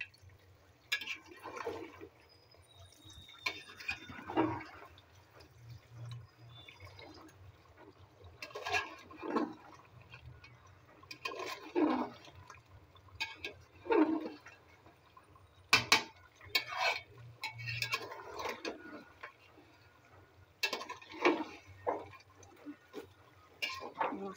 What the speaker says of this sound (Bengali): এখন মাংসটা একটু ভালো করে নেড়ি।